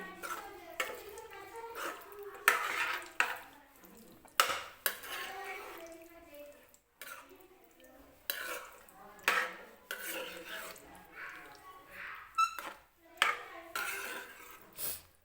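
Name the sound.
stirring yogurt into potato kurma in a pan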